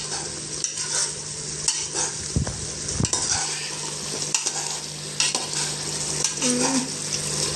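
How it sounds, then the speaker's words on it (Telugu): Chicken masala powder being stirred into chicken biryani in a pot, a steady scraping and clinking of a spoon against metal over a soft sizzle, with occasional sharper knocks, close and alone. "ఓకే, మళ్ళీ ఒకసారి బాగా మిక్స్ చేసుకోండి."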